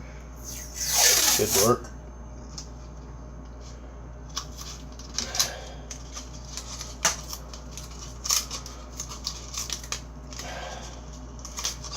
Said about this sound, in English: We're just going to use some tape I have laying around